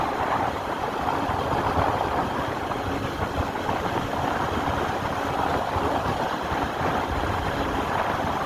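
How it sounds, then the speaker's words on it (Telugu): A motorcycle engine runs steadily while the bike is ridden, a continuous even drone with no breaks, fairly close and unaccompanied by talk; the engine has a reported bore failure at 16,000 km. "బండి ఇంజన్ పోతుంటే సౌండ్ ఎట్లా వస్తుంది అనేది మీరు చూడాలన్నమాట"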